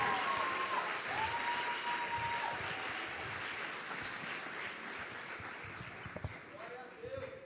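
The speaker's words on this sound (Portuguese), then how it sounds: "Você pode aplaudir a Jesus" A church congregation applauds together in a worship service, a broad, sustained clapping that slowly thins out, with a few brief cheers and a louder clap near the end.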